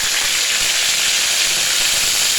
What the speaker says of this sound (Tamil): கடுகு வெடிக்க ஆரம்பிச்சிருச்சு.